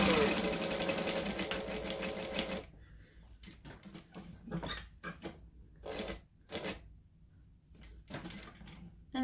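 Sewing machine stitching a fabric pocket on a traveller bag, a loud steady whirring run for nearly three seconds, then short bursts of machine stitching separated by pauses.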